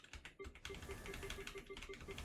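Computer keyboard keys are pressed in a gaming session, a quick run of light clicky taps in an irregular rhythm, close and fairly faint against a soft steady background.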